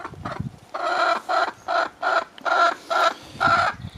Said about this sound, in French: Et la poule.